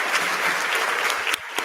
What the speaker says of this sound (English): Let's give another round of applause for our scholar